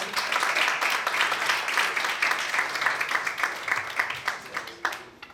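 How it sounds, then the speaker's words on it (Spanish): An audience at a lecture applauds the doctor who has just spoken, a dense, steady wash of clapping that gradually thins and breaks into scattered claps by the end. "Un aplauso para el doctor."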